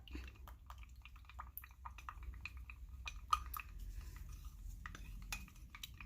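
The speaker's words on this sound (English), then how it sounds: "Then we're going to go ahead and mix it up." Acrylic paint is stirred with pouring medium in a cup, making soft scattered clicks and light taps of the stirrer against the container, faint and close.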